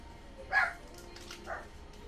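A dog barks twice indoors, a sharp nearby bark followed by a softer one about a second later.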